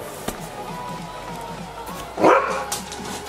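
A dog barks indoors at home, a few separate barks close by with one louder burst near the end, over a steady background hum such as a running washing machine.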